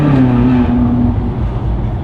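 Ferrari California V8 engine with exhaust valves open, a loud, continuous rumbling drone close by that holds steady throughout with a slight shift in pitch partway through, no voices over it.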